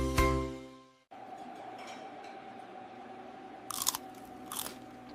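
A crisp bite into crispy fried zucchini with creamy sauce gives a loud crunch at the start, then faint chewing with a couple of sharper crackles later on.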